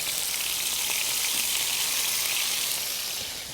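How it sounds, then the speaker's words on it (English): A steak sears in a hot pan with a dense, even hiss like steady rain, loud and continuous, easing slightly at the end, no voices. "while the steak sears"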